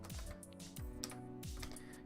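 A computer keyboard is typed on at a desk in light, irregular clicks and short bursts of keystrokes, with low humming and sliding tones playing underneath.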